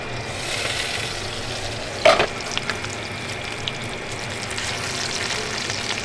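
Bacon frying in a Henckels HXagon hybrid non-stick pan, a steady crackling sizzle close by, broken by a brief louder burst as a strip is turned over.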